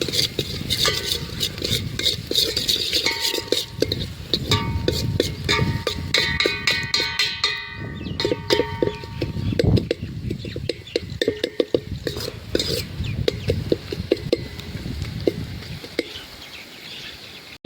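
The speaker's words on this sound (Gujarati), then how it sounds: "અને હલાવી દેવું" A spoon stirs an onion kasumbar mix in a metal pan outdoors on a farm, with repeated clinking scrapes in an irregular rhythm, close and fairly loud, while birds chirp faintly in the background.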